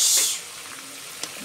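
Boal fish added to hot spice masala in a pan, setting off a brief burst of loud sizzling hiss that fades quickly into a quieter simmer with a few faint pops.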